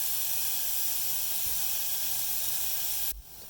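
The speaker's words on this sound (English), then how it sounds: "we'll fry until the onion is translucent" Onions fry in a pan with a steady, close, bright sizzling hiss that runs unbroken until it drops off sharply near the end.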